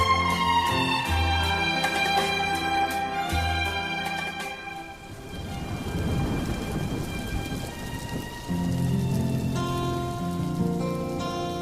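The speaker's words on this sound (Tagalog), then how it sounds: "Bakit ba kasi biglang bumuhos ang ulan?" Heavy rain pours down during a sudden downpour at a waiting shed, a dense steady roar of rainfall mixed with rumbling thunder and tonal music throughout.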